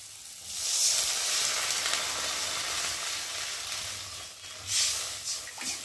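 Water hits a sizzling spice paste in a pan for a fish curry, a broad hissing sizzle that swells and stays steady, then flares again with a few sharper bursts, close and without talk.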